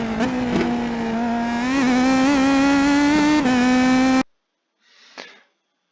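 An Indy Pro 2000 race car engine in the iRacing simulator at Long Beach, a loud high-pitched whine rising and dipping with gear changes, then cutting abruptly to near silence with a faint brief burst.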